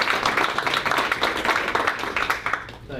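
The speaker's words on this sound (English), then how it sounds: "should we give them a round of applause?" An audience at a school review claps and applauds for medal winners, a dense, steady burst of many hands clapping close by that fades slightly at the end.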